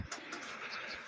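A racing pigeon gives a soft, low cooing call, close by, over faint background noise.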